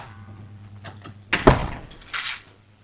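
An apartment door swings shut with a solid thunk, followed a moment later by the brief mechanical whir and click of a smart lock engaging, close by in a quiet room with a low hum beneath.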